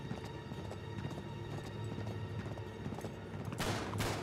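A horse gallops in the video game Uncharted 3, with rapid rhythmic hoofbeats over a busy game mix and a burst of noisy action near the end.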